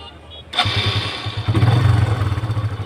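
Motorcycle engine fired by its electric self-starter, a sudden catch into a steady, throbbing close idle that swells slightly, with a voice speaking over it.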